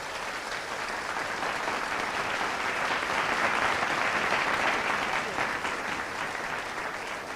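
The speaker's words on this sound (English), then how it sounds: "don't you think you should give them a loud round of applause?" A loud, sustained round of applause from a college freshers' day audience, dense continuous clapping that swells slightly in the middle and carries on without voices.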